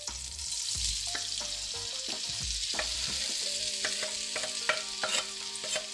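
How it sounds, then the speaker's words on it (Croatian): Vegetables sautéing in hot oil in a pan for a pita filling, a continuous close sizzle with repeated stirring scrapes and clinks, no voices. "Ulje se znači ugrijalo i sada stavljamo povrće"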